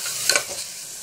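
Spice masala with garam masala and a splash of water roasting in a pan for restaurant-style chole, a short stir with a couple of scraping clicks over soft sizzling.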